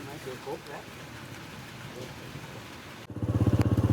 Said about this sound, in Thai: โอ้วันนี้ฝนตกนะ